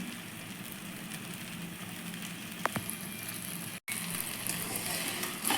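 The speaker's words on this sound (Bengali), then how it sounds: "এবার ভাজা মাছগুলো এর মধ্যে দিয়ে দিচ্ছি" Fried prawns added to a pan of cooked spice paste for chingri kaliya give a steady, even sizzle at moderate level. It breaks for a moment midway, with a faint clink of utensils.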